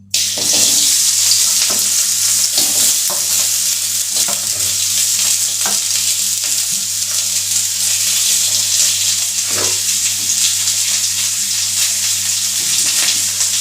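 Onion fries in hot oil, a loud, dense, continuous sizzle with crackling spatter throughout and a low steady hum underneath.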